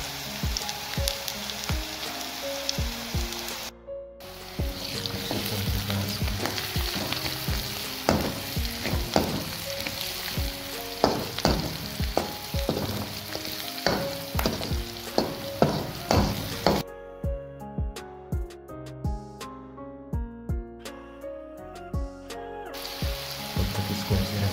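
Ingredients sizzle and crackle as they brown in a pan for a pahadi dish, a continuous close frying hiss broken by repeated stirring scrapes and clinks.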